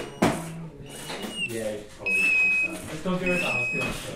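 A robot ambulance toy's electronic buzzer sounds in steady, high-pitched beeping tones, including one longer sustained tone, close by and fairly loud, with some voice underneath.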